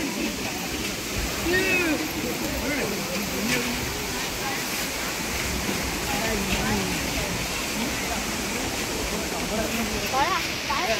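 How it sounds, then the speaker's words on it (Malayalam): Steady broadband rush of the Thusharagiri waterfall, low on water, close and continuous, with scattered voices and distant chatter mixed in. "Yes, Thusharagiri waterfalls."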